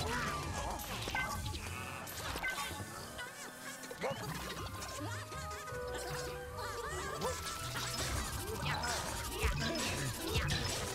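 Objects being smashed in the video game Luigi's Mansion 3, a dense run of repeated crashes and thwacks over busy game music and effects, loud and continuous.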